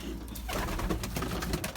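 Racing pigeons in a loft give a steady murmur of low cooing, close and continuous, with no talking over it.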